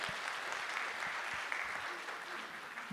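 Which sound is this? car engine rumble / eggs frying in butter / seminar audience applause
seminar audience applause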